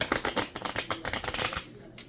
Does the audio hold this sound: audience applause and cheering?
no